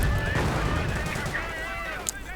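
Battlefield gunfire in a World War II strategy game, Cromwell tank and Bren gun shots crackling in a dense, loud barrage with a whining sound and a sharp report near the end.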